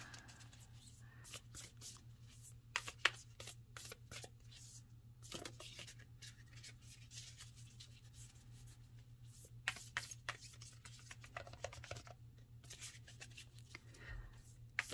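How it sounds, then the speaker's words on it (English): Tarot cards being shuffled by hand, quiet, irregular riffling and flicking bursts scattered over a low steady hum, close and soft with no talk. "I'm gonna close my eyes while I try to shuffle this"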